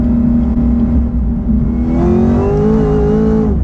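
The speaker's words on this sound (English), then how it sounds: "Alright, we're in third gear, and it just blows the tires off." A Chevrolet Camaro ZL1 pulls hard in third gear on a dyno, its loud, close engine roar holding steady, then climbing in pitch as it revs before cutting off.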